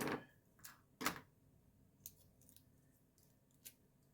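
Pieces of tape being pulled and torn off a roll for a sublimation tumbler job, a few short sharp rips close by, the loudest bursts early, followed by fainter ticks and snaps, no talking.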